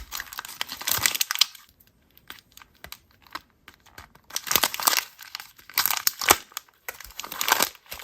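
A packet from a Soft Flex Company design challenge bead kit is opened, with loud crinkling and crumpling plastic in bursts separated by quieter pauses, up close and without talk.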